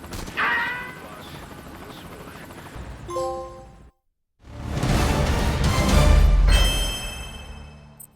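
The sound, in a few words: helicopter in flight, Metal Gear Solid V video game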